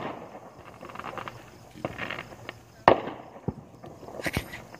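Scattered booms and crackles of Fourth of July fireworks go off at a distance, with one sharp louder bang and a steady background hiss.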